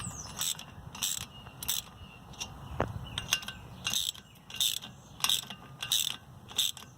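A ratchet wrench clicks in repeated short bursts while turning bolts to push a stuck brake rotor off the hub of a 2009-2013 Toyota Corolla, the metallic ratcheting close and steady with brief pauses between turns.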